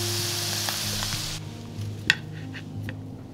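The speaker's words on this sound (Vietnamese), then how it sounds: "Mình chiên hơi xém vàng bên ngoài như vậy là được rồi nè." Potatoes frying in four spoonfuls of oil in a pan, browning on the outside: a steady close sizzle and crackle with a few sharp pops and a clink of stirring.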